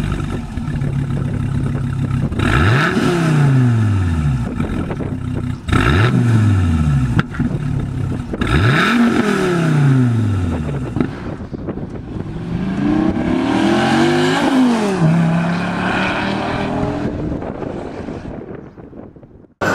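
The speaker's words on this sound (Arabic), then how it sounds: "خليني اسمعكم صوت الشكمان بلاش غلبه وكلام كثير مني انا، اسمعوا" Dodge Viper GTS exhaust revved repeatedly, three loud rising-and-falling throttle blips followed by a longer roar, heard close up with wind buffeting the microphone and no talking.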